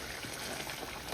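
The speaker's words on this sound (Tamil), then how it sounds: "மூடி போட்டு கொதிக்க விட போகிறேன்" Fish curry gravy simmers in a covered pot, giving a steady, even bubbling hiss that runs unbroken and fairly close throughout.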